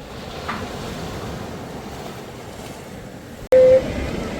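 Sea waves wash onto a guarded beach near Collo in Skikda, Algeria, a steady surf roar with wind, broken by a loud microphone knock and a brief tone near the end.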